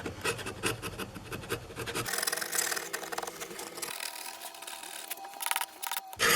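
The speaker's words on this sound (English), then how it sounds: "Using your chisel as a scraper is a great way of removing any excess glue or wood" A chisel held as a scraper rasps across mandolin wood, clearing excess glue during a Gibson mandolin back restoration; steady close scratchy scraping strokes fill the stretch with no talk.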